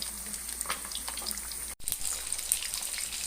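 Jullien's golden carp (yi sok) frying in hot oil, giving a steady close sizzle with crackling pops throughout and a brief dropout midway, no voices.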